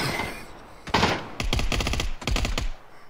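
Bursts of automatic gunfire in the battle royale game PUBG, several rapid volleys of close, loud shots separated by brief pauses.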